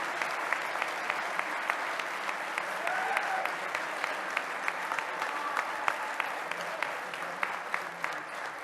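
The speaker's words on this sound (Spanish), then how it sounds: "quiero pedirles recibamos con un fuerte aplauso" Sustained applause from a large audience at the 2021 Benito Juárez National Award ceremony, many hands clapping densely and evenly for several seconds, with no one speaking over it.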